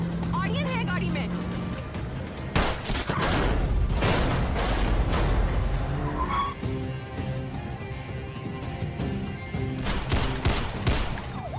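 Film shootout with a terrorist, bursts of gunfire and heavy booming shots crackle through a dense, chaotic mix of music, vehicle noise and shouting voices for several seconds.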